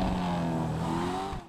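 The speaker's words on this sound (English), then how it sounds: "it's got a very glitched kind of robotic crackle, almost like anti-lag" A car in GTA Online downshifts with a strange, glitched robotic exhaust crackle like anti-lag, a loud close engine drone with stepped rasping tones that cuts off abruptly.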